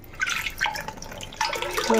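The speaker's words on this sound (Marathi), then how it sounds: "ह्याच्यावर पाणी थांबत नाही बघा या पानांवरती" Water drips and trickles off broad taro leaves outdoors, a few uneven splashy drops and short runs of liquid, close by with no voices.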